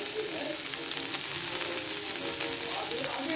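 Potato and other vegetables frying in oil with coriander and cumin powder, a steady soft sizzle and crackle with occasional stirring, heard quietly and alone for its whole length.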